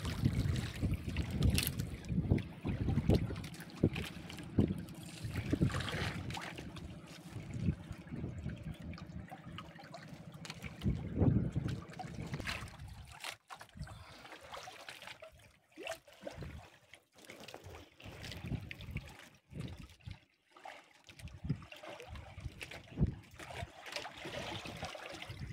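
A hooked fish churns the water, making irregular splashes and sloshing waves close by. The surges come in bursts, with gusty, noisy stretches between them.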